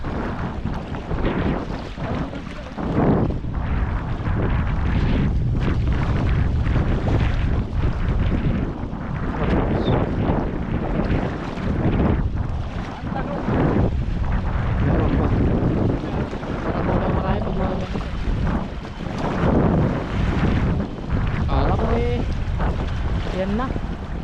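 Strong wind at sea aboard a fishing boat, with heavy, constant roaring gusts buffeting close to the microphone and water sloshing underneath, while people talk intermittently over the noise.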